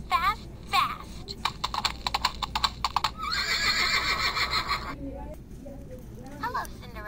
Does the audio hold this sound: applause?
no